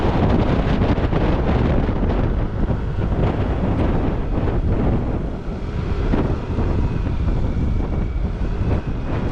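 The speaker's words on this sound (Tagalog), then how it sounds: "Grabe lakas ng hangin ngayon, no?" Strong gusts buffet the microphone in a constant low roar at a petrol station, heavy and unbroken, with no voices.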